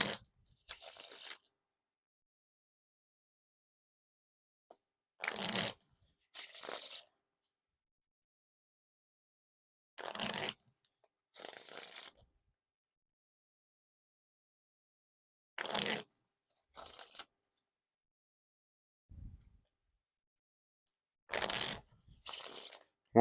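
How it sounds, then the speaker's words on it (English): Repeated riffle shuffles of a Red Smoke and Mirrors v6 deck of playing cards, each a short fluttering burst followed by a soft bridge, separated by quiet pauses. "And now time for the riffle shuffle or bridge shuffle."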